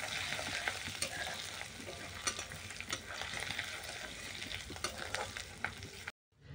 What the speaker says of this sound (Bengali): আদাটাকে আমি একটু ভালো মতো ভেজে নেব